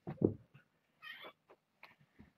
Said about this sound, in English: Enjoy the kittens and cat.